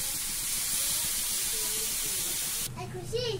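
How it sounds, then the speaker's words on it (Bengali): Grated carrots hit hot ghee for carrot halwa with a loud, steady sizzle and hiss, the sound shifting partway through as stirring and faint voices come in. "ঘিটা তো গরম হয়ে গেছে, ওখানে আমি দিয়ে দিব গাজর।"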